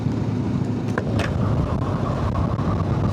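A motorcycle rolls along a bypass road, its engine a steady, moderately loud drone under wind and road noise.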